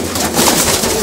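A female pigeon perched close by gives a single loud, throaty coo that fills the brief moment.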